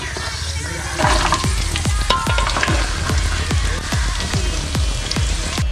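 Coconut pieces frying in hot oil with curry leaves, a steady close sizzle dotted with sharp popping crackles throughout, growing busier after the first second.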